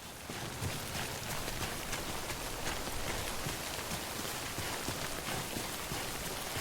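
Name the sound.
rain (timefall) in the video game Death Stranding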